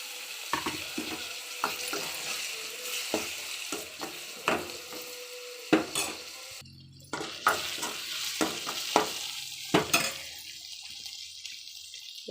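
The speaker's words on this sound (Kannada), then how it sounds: "ಈಗ ನಾನು ಟೊಮೆಟೊ ಹಾಕ್ತಾಯಿದ್ದೀನಿ." Tomatoes fry and sizzle in a pan for Maggi masala while a spoon stirs them in repeated scraping strokes, close and fairly loud, with no talking.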